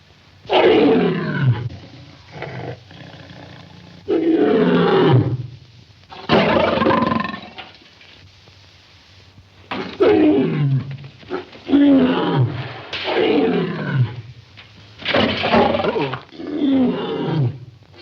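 Five ferocious lions roar in a lion tamer's act at a travelling road show, giving repeated loud, close roaring bursts with short gaps between them and no other sound.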